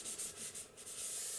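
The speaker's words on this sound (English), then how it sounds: "Just burnish that all down." Paper being burnished flat on an envelope pocket gives a short, steady, close rubbing hiss with slight pulsing strokes, soft and continuous, with no voices over it.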